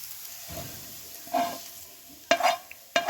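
Fried onions and green chillies being stirred into beaten eggs in a bowl for a masala omelette, with a few short, sharp scraping and clinking bursts of mixing over a quiet background.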